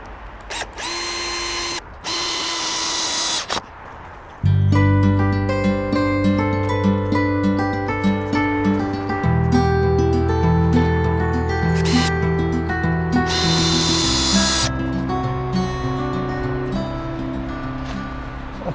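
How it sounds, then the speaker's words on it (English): A power drill drives the final screws into pergola beams outdoors, with several loud whining bursts that rise and sustain as each screw goes in, close to the listener. "Just add in the final screws."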